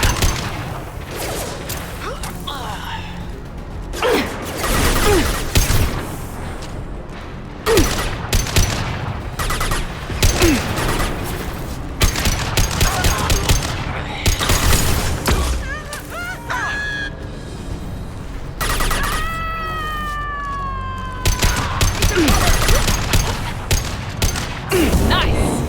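Gunfire in Mass Effect Legendary Edition on PC comes as repeated loud bursts and single sharp shots across a long firefight, with booming impacts and sci-fi weapon whines between them, under game effects and occasional voices.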